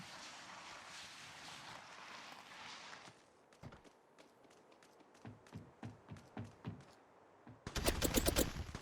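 Gunfire in Apex Legends Mobile: scattered sharp shots in an uneven rhythm, then a loud, rapid close-range volley at the end, over a rushing game ambience.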